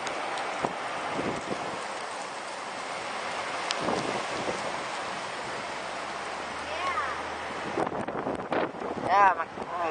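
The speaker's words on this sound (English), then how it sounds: "It's getting really windy." Strong gusty wind from an Arizona haboob dust storm buffeting the microphone with steady roaring noise, while people speak excitedly over it.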